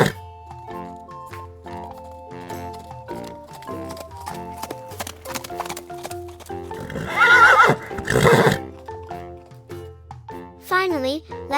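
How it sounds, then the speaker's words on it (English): A horse whinnies loudly with rising and falling neighs, backed by steady clip-clopping hooves and a light musical bed, with a voice speaking over it. "It's the horse."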